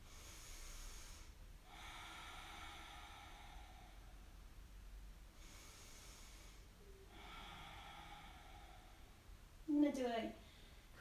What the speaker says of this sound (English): take a couple of nice deep breaths